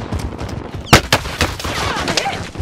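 Video game gunfire in a battle royale match near a prison rooftop: several sharp shots crack close by, one much louder than the rest, with scattered smaller bursts around them.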